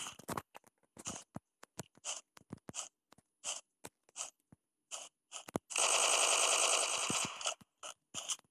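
Gunfire from a weapon in the CNR video game: a run of short, crisp single shots in an irregular rhythm, broken by one sustained burst of about a second and a half, with no voices.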